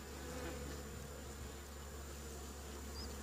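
Honeybees on a hive brood frame give a constant, dense buzzing drone, quiet but steady, with no voices heard.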